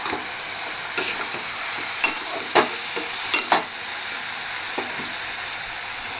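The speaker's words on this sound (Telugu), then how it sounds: "శనగలు వేసుకుని బాగా కలుపుకోవాలి" Chickpeas are stirred into a sizzling pan for a potato-chickpea curry. A steady frying hiss runs throughout, broken by a few sharp scraping clicks of the spoon against the pan. No one speaks.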